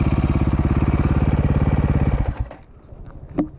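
A dirt bike engine runs steadily at a trail riding area, its fast pulsing exhaust loud and close for about two seconds before it cuts out, leaving quieter rustles and a brief knock.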